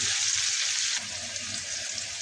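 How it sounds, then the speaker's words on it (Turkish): Steady hissing sizzle of green beans frying in a pan, a broad bright crackle that eases slightly partway through, with no talking. "Şimdi kızarmasını bekliyorum."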